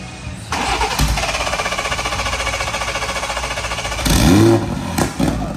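A Lincoln Continental's engine cranks for a moment, catches and settles into a loud, steady, pulsing idle, then briefly revs louder near the end, heard close up.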